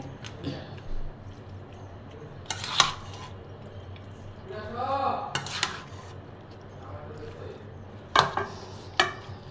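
Beef being hand-mixed in a pot with sour yogurt and chopped onion: soft squishing and wet kneading, broken by a few sharp clinks of metal against the pot, close and intimate, with a voice speaking quietly now and then.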